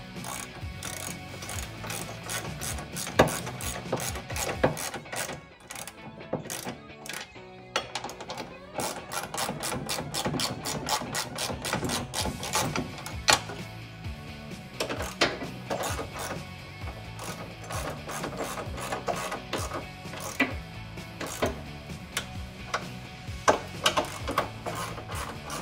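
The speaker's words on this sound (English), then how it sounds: "I'm just going to tighten everything evenly through the whole rail before I come back to torque" A ratchet tightens bolts on a side step rail on a Ford Ranger, giving long runs of rapid, close metallic clicks with short pauses between bolts, loud and continuous with little talk.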